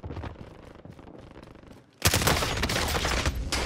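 Dense bursts of gunfire from a Call of Duty Warzone match on Rebirth Island, starting quietly over a low background and then erupting into sustained, loud, rapid volleys with heavy impacts.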